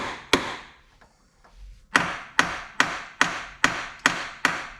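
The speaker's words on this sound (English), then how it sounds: "let's just give it a tap once and see what happens" A single sharp tap, then after a pause a steady series of seven loud, evenly spaced knocks on a Ford 5.4 two-valve Triton engine part, close and distinct.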